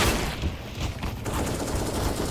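Dense, sustained SMG fire from MP9 submachine guns during a competitive Counter-Strike match, a continuous rattling barrage at steady loudness throughout with no talk.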